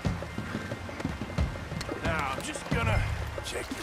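Horse hooves clip-clop at a steady walking rhythm in the Red Dead Redemption 2 video game, close and moderately loud, mixed with other game sounds and what seems to be a voice.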